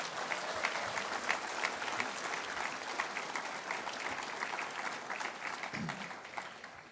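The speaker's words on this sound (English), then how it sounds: "A round of applause for all of these folks." Steady applause fills a room at an awards ceremony, many hands clapping at an even level throughout with faint voices underneath, tapering slightly at the close.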